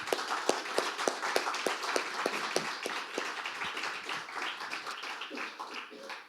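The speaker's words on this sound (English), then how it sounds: "we should give a round of applause to both our keynotes" An audience applauds two keynote speakers at a conference, with a run of quick, fairly close claps that thin out and fade toward the end, while a voice talks faintly underneath.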